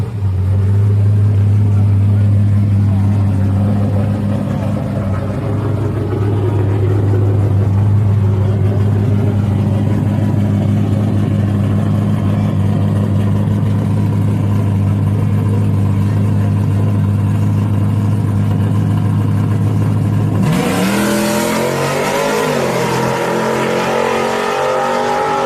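Race cars in a grudge race, a loud sustained low engine drone that builds, then a sharp burst of rising revs as the cars launch and accelerate hard near the end.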